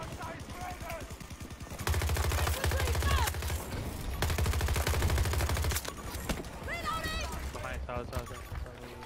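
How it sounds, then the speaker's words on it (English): Rapid bursts of automatic gunfire from a shooter video game, loud and dense in two sustained volleys with brief gaps, mixed with game sounds and a player's voice talking over it. "They're shooting me."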